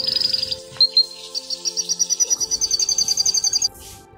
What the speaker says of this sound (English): C for canary.